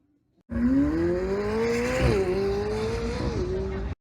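Ferrari Challenge Stradale launches from a standstill at a supercar event, its engine snapping to a loud high-pitched howl that climbs steadily through the gears, with a brief shift dip midway, close and dominant.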